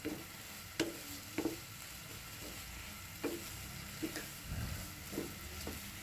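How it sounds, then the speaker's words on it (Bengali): Vegetables and noodle masala sizzle steadily in a pan while a spatula stirs them, knocking against the metal at irregular intervals, close and fairly loud with no voices. "সব কিছু একসাথে নেড়ে চেড়ে মিশিয়ে নিচ্ছি"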